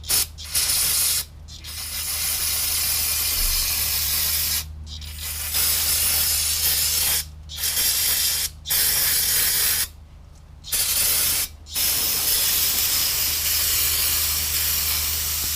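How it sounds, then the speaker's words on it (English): Long bursts of aerosol brake cleaner hissing loudly onto the rear drum brakes of a 1966 Ford Mustang, broken by several short pauses, with a low steady hum underneath. "I'm going to spray this down with some brake cleaner"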